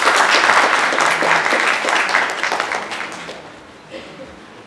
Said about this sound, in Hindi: जोरदार तालियों से स्वागत कीजिए